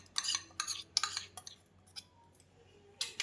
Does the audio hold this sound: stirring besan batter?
yes